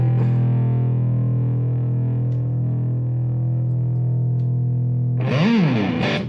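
An electric guitar driven through a Big Muff fuzz pedal holds one thick, buzzing sustained note for about five seconds, then a bright new attack bends and churns loudly before cutting off.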